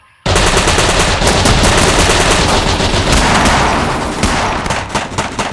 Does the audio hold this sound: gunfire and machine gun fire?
yes